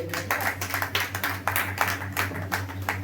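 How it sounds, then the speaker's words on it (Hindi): A church congregation claps in praise during a Hindi sermon, with regular rhythmic claps about twice a second over a steady low hum from the sound system, moderately loud. "ताली बजाएंगे खुदा के नाम।"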